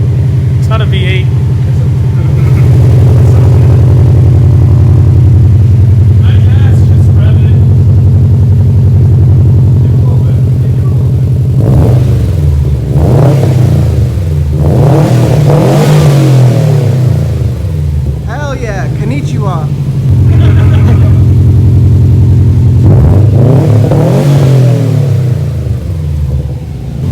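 Loud, close revving from a 2019 Subaru WRX STI fitted with an Invidia R400 exhaust: a sustained droning idle broken by several rising and falling throttle blips, with people talking and reacting over the engine.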